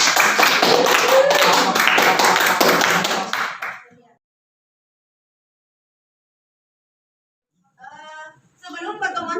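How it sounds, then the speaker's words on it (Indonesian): A classroom breaks into a burst of clapping for a student group, dense and lively for several seconds before stopping abruptly, followed by silence and then a voice resuming speech. "tepuk tangan sekali lagi untuk kelompok 4"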